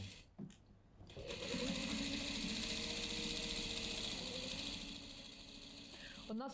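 A sewing machine stitches around a denim tote bag, its motor starting after a brief pause and running in a steady, close whir for about five seconds before slowing near the end.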